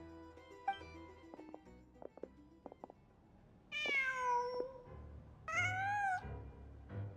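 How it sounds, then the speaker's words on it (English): A cat in the video game Genshin Impact gives two clear, drawn-out meows near the end, preceded by soft clicks and light ambient game sounds, with no talking. "Just a cat."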